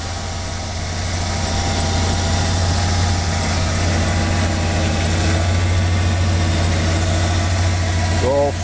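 A stock 1993 Ford F150 XL engine idles with a steady, smooth, even rumble that holds constant at close range, with someone talking over it.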